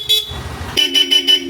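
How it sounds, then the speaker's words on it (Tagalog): A Bosch Europa horn fitted to a Yamaha Aerox V3 scooter sounds one short toot, then after a pause a loud run of four quick, evenly spaced blasts up close. "Ayun, napaka-solid na horn."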